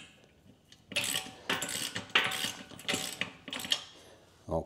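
A ratchet wrench tightening bolts while a leg extension home gym machine is assembled, sharp bursts of rapid clicking repeated in several close, loud strokes with short pauses between.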